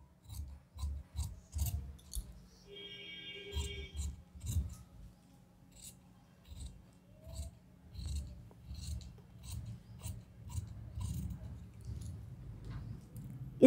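Scissors snip through blouse fabric along a marked line on a tailoring table, a steady run of short close crisp cuts with soft rustling of cloth between strokes, no talking.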